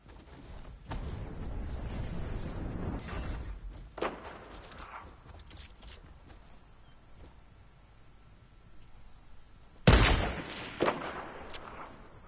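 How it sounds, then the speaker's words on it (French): Gunfire rings out in a French-played battle royale video game, heavy booming shots at first, then a quieter stretch, followed by a sharp loud burst near the end and another shot shortly after. "Ah, on me tire dessus apparemment."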